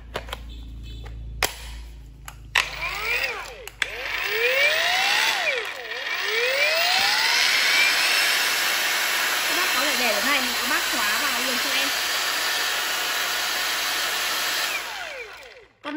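A cordless angle grinder running on a battery with a standard or 4 cm battery mount, its high steady whine close by, with speed sweeps and changes in pitch, and someone speaking faintly at times.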